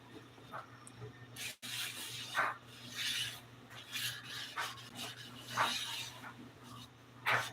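Scraper or pad rubbed across a hot griddle being seasoned after heating just past its oil's flash point, giving uneven rasping strokes over a steady sizzling hiss, close and fairly quiet.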